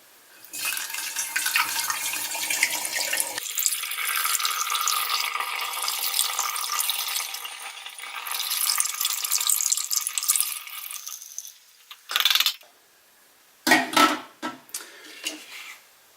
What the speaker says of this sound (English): I like to pour the cider over the nutrient so it mixes by itself.